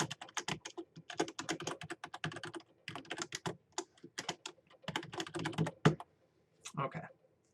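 Code is typed on a computer keyboard, with rapid close clicking keystrokes in uneven bursts and short pauses, ending in a few separate taps.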